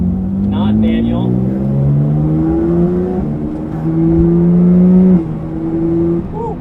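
A Porsche 911 GT3 RS with Akrapovič headers and PDK gearbox revs hard with its exhaust valves open, a loud, close engine note rising and falling through several sustained pulls.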